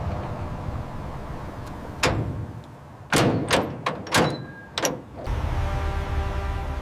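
Heavy doors of a shipping container packed with garments being swung shut, giving several loud metallic slams and thuds in quick succession, with a steady background hum before and after.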